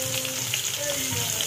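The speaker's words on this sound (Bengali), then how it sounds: "পেঁয়াজটা লাল লাল করে ভেজে নিই।" Onions fry in hot oil in a pan for roasted cauliflower curry, giving a steady soft sizzle that stays fairly quiet and continuous throughout.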